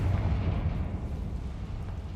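A Confringo fire spell explodes in the Hogwarts Legacy video game, a deep rumbling blast that rolls on heavily, then slowly fades.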